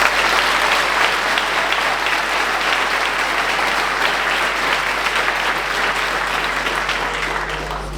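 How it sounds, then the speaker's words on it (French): A ceremony audience at the 2025 New Year's address in Viviers gives sustained applause for a local firefighter, broad and even clapping from many people that tapers slightly at the end over a low electrical hum. "On peut l'applaudir."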